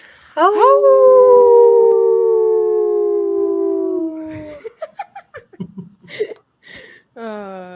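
A dog or wolf-like howl rises loudly and holds steady for several seconds, followed by short yips and a second howl beginning near the end; the sound is close and prominent, with no speech over it.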